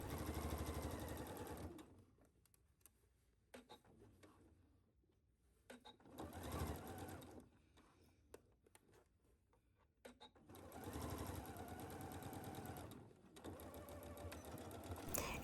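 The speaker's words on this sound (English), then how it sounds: "we are going to attach the shoulder seams at our outer pieces, and we are going to sew this at 5/8 at our machine." A domestic sewing machine stitches the shoulder seams of a vest at a 5/8 seam allowance, running in several steady bursts of a few seconds each, separated by pauses with faint handling clicks.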